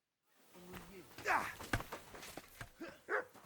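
A dog in the video game Kingdom Come Deliverance 2 gives a few short barks and yips amid game ambience, moderately loud and close, with soft footsteps in the background.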